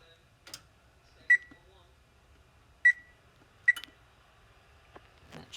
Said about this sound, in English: preheat your oven to 350 degrees